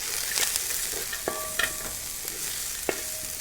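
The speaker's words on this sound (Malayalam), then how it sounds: "ക്യാരറ്റ് ഒന്നുണ്ട് വഴറ്റിയപ്പോൾ കുറച്ച് ക്യാപ്സിക്കം ഇടുന്നുണ്ട്." Carrot and julienned capsicum sautéed in a pan for chop suey, a soft close sizzle with a few sharp clinks and scrapes of a spatula against the pan, no voices.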